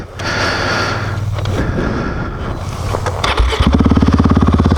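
A 2019 KTM 690 or Honda Africa Twin motorcycle engine is cranked and catches, a rough low drone giving way to a loud, close, rapidly pulsing idle thump in the last second.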